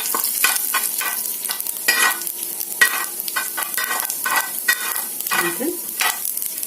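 Mustard seeds, cumin, urad dal and chana dal frying in hot oil for a radish fry, a loud steady sizzle close up, with repeated scraping strokes of a spoon stirring the pan.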